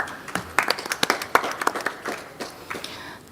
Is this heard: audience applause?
yes